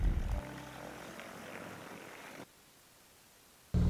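A Mooney 262 propeller airplane's engine drones steadily at first, then cuts to near silence before a loud burst of engine noise returns at the end.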